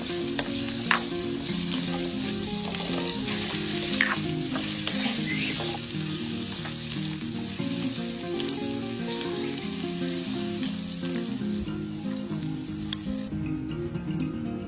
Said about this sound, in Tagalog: Magpainit ng konting mantika at i-pan fry ang patatas at carrots